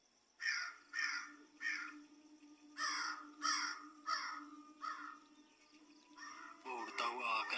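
A crow caws repeatedly in a horror cartoon setting, about seven loud harsh calls spaced in an uneven rhythm, fairly close, ending in a burst of rougher overlapping cries.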